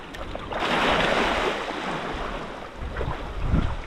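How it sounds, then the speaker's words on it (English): Ocean surf breaks and rushes around a primitive handmade raft coming ashore along a coast, a loud close wash of churning water mixed with gusty wind buffeting the microphone. "We're coming on the surf now."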